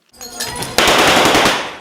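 Gunfire during the shooting outside the regional SBU building in Khmelnytskyi, a short rattling burst of shots that turns into a loud, sharp crackling volley and then fades, with no one speaking.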